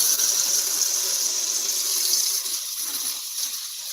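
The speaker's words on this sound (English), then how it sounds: "I had to rinse my paintbrush" Tap water runs steadily into a sink while a paintbrush is rinsed, a continuous broadband gush heard alone at fairly close range, easing slightly toward the end.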